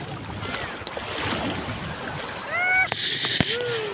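Swimmers bathing in cool sea water off the Ilocos coast, with continuous splashing and sloshing close by, a few sharp splashes and whistle-like calls near the end.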